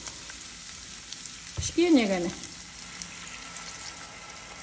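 Water poured into a pan of frying potatoes for lazy manti gives a short loud burst of sizzling over steady frying hiss, then settles back to a soft continuous crackle; a voice speaks briefly.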